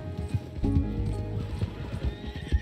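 A horse in the video game Red Dead Redemption 2 neighs loudly up close, its whinny ringing out amid a quick run of hoofbeat clip-clops, with a voice faintly underneath.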